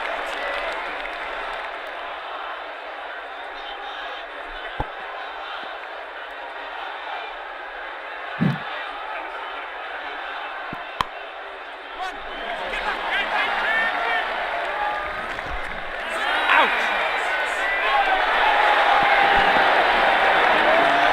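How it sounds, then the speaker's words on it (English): Polite crowd applause in an Ashes Cricket video game match between England and Australia, steady broadband clapping from a stadium crowd throughout, swelling slightly louder toward the end with a few isolated sharper sounds. "He's getting a polite round of applause as he makes his way to the pavilion"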